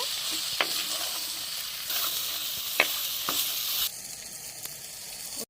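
Ridge gourd and tomatoes sizzle steadily in a frying pan, a continuous hiss that swells as the vegetables go in, with a few sharp crackles and pops along the way.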